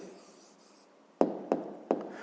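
A pen works on paper as an answer to a fifth-grade maths exercise is written out by hand. A soft scratching comes first, then three sharp taps, close and quiet.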